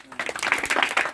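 An audience claps at a magic show in a brief, dense burst of applause that builds and holds steady throughout.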